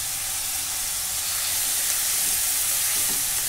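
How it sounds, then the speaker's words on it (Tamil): Minced mutton mixed with chilli powder and turmeric sizzles and fries in a pan as it is stirred, a loud, continuous hiss with faint scraping throughout. "இந்த மட்டன் நல்லா இப்படி கலருக்கிட்டே இருங்க,"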